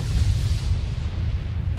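A deep, sustained rumbling boom from an in-game explosion, heavy low-end energy rolling steadily for nearly two seconds with no pause or voice over it.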